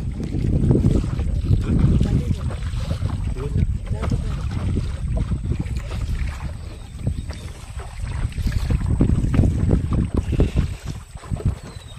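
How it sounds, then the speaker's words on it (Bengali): Light wind gusts across a small boat on a river through Sundarbans forest, heard as buffeting low rumbles that swell and ease, with faint water and boat noises underneath. "হালকা হাওয়াও ঘুরছে।"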